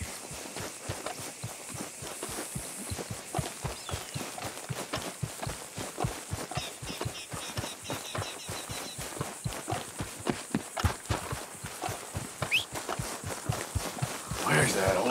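In Red Dead Redemption 2, a horse's hooves clip-clop in a fast, steady rhythm, like a trot or gallop, continuing close and clear for about fifteen seconds.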